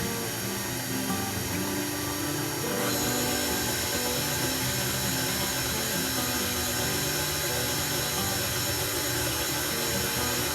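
Steady whirring drone of an electric mixer beating Oreo cake batter with powdered sugar, loud and continuous with a slight shift in tone partway through.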